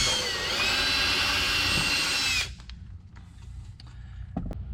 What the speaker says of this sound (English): The box is pretty thin, so it should drill pretty quickly.